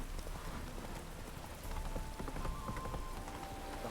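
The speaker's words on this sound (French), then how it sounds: "On n'aurait pas dit qu'il allait pleuvoir." Steady rain patters across surfaces in the city of Novigrad in The Witcher 3: Wild Hunt, a dense even hiss with faint scattered ambient sounds and no speech.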